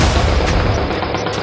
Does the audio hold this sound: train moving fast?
no